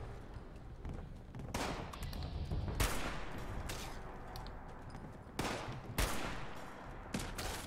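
Bursts of gunfire in the Fallout 76 beta video game crackle in several quick volleys, with sharp shots standing out near the start and again later, fairly quiet and with no talk.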